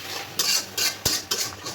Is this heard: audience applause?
no